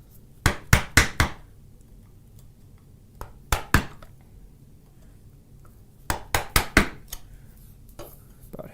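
A chisel being struck by hand while cutting a wooden dovetail joint gives sharp, close woody knocks in quick clusters of three or four, with single blows between and quiet gaps.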